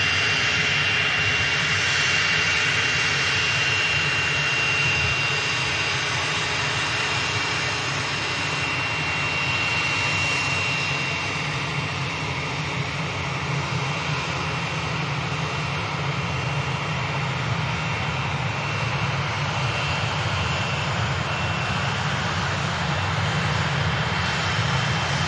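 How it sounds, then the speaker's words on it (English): Jet engines of a German-registered Vista jet roar continuously on the takeoff roll at Manchester Airport, a loud, steady, broadband rumble with no pauses. "Right now on the takeoff roll. This is the aircraft heading down to Carcassonne."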